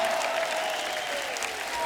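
An audience applauds with dense, sustained clapping at a TV comedy show, while a faint tonal sound glides underneath.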